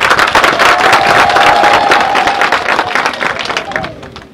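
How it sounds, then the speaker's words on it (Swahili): Secondary school students at Matola in Njombe applauding together, loud dense clapping from a close crowd that holds steady and then tapers off toward the end. "Piga makofi."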